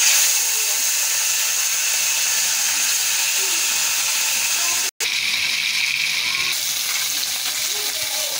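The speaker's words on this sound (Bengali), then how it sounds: "মাছটা ভেজে নেব" Rohu fish frying in hot oil in a wok, a loud, steady sizzle and hiss running throughout, broken by a momentary cut before the crackling resumes.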